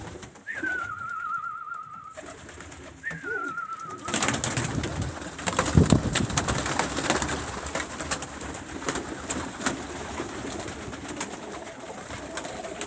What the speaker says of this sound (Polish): przyjdziemy do gołąbków